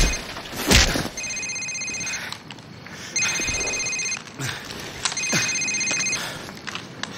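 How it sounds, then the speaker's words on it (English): A cell phone rings in Call of Duty 4 with a repeating electronic tone in three bursts, each about a second long and spaced a couple of seconds apart, over a low background rumble and a thump near the start. "Sir, it's his cell phone."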